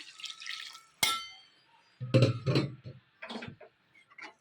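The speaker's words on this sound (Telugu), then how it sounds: "ఇందులో కొద్దిగా వాటర్ పోసుకోవాలి" Water splashes and pours into a pan of potato and drumstick curry in a few short bursts, with clinks and a sharp tap; nobody speaks.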